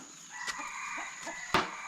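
A large chicken in a rural Thai village clucks in a few short, scattered calls nearby, with a steady high insect-like hum in the background.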